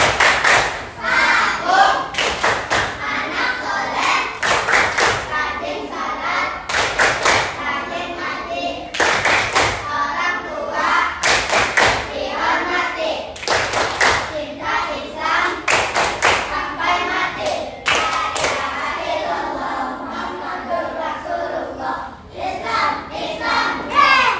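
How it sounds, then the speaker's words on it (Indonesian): A class of children claps the rhythmic "Tepuk anak soleh" pattern in a classroom, sharp unison claps in repeated bursts, with chanting voices and a teacher's talk between the groups of claps. "Tepuk anak soleh"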